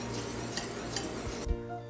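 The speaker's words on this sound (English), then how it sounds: "bring this to a simmer over medium heat and then whisk it constantly for" A dressing simmers in a pot on the stove and is whisked constantly, giving a soft bubbling and sizzling bed with scraping strokes and a few metal clinks near the end.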